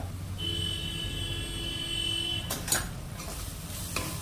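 Chili powder frying in a pan for an egg and mushroom curry: a steady sizzle under faint hum, then a few louder scrapes and clinks of a spoon stirring near the end.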